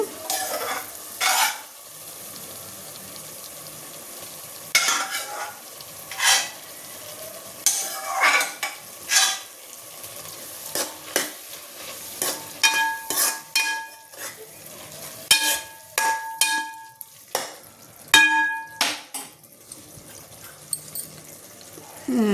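Spoon scraping and stirring boiled broad beans through a pan of sizzling tomato curry, with irregular clanks and scrapes over a soft, steady fry.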